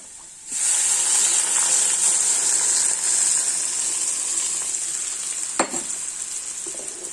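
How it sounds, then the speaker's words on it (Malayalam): Yogurt being stirred in a hot pot: a steady sizzle and hiss with an occasional spoon scrape near the end. "നല്ലപോലെ ഇളക്കി കൊടുക്കണേ, തിളച്ച് പോകരുത്."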